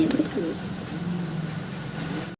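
Fancy pigeons offered for sale coo in a soft, continuous low murmur close by, with a few faint chirps above it.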